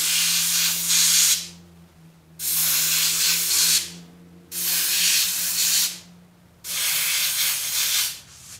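An airbrush sprays green paint through a plastic heart stencil in four distinct bursts of loud, steady hiss, each about a second long, separated by short pauses over a low compressor hum.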